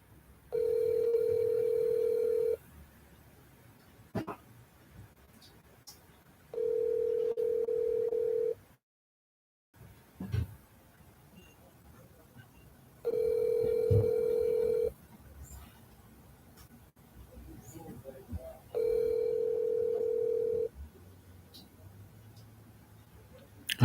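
Ringback tone on an unanswered telephone call, four long steady buzzes spaced a few seconds apart with brief clicks and quiet line noise between them.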